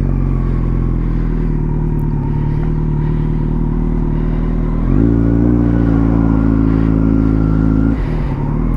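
Kawasaki Z900 inline-four motorcycle ridden in road mode, a steady close engine drone that rises in pitch with a brief rev surge midway, then eases off near the end, with no talking.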